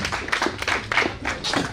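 Audience clapping at a gala evening, a rhythmic run of fairly close, loud claps in uneven bursts, alone without talk.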